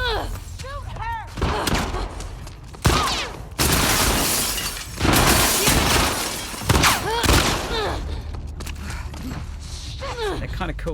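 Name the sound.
gunshots, video game The Last of Us Part II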